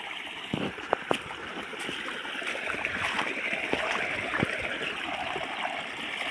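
Water rushes through an irrigation channel on a farm with a continuous, fairly close gushing flow, broken by a few soft splashes and knocks early on.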